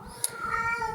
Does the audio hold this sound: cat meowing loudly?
yes